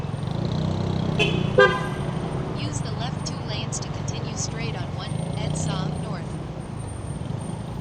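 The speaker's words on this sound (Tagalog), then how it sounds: "Tingnan mo yung traffic sa EDSA." Dense city traffic on EDSA, a steady roar of engines with a sharp car horn honking once near the start and shorter toots scattered through, while voices talk over the din.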